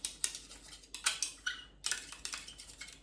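Paint is mixed for a modern abstract artwork, producing close, irregular clinks, taps and short scrapes in quick bursts with brief pauses between them.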